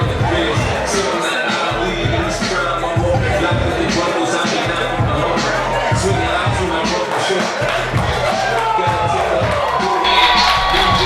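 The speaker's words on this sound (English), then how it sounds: "you hear the crowd coming glued for Big Black Carl." A wrestling-match crowd cheers and shouts continuously, a dense roar of voices with rhythmic chants and yells across the whole stretch.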